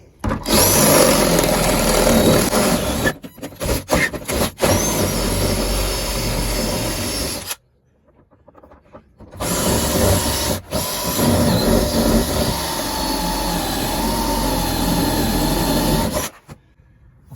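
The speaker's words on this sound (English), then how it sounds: "So I'm going to drill it out some more." A loud, harsh power drill with a larger bit drills out a Ford Transit MK7 door lock in long continuous bursts, grinding steadily with a short pause and brief cutoffs between runs.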